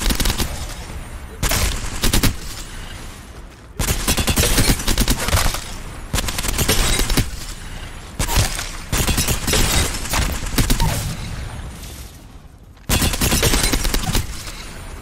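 Rapid automatic gunfire from Apex Legends bursts in long loud volleys, with short gaps between sustained streams of shots and booming impacts.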